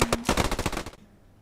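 Rapid burst of MP40 machine pistol fire in the WWII shooter game Post Scriptum, about a dozen sharp shots in quick succession, loud and close, ending abruptly into quiet.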